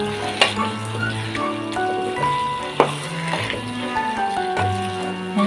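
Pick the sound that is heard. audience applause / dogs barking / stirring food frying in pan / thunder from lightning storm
stirring food frying in pan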